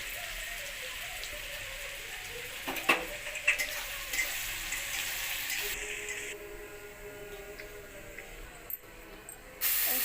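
Chopped onions frying in a pan, a continuous close crackling sizzle with a few stirring scrapes near the start, fading slightly toward the end.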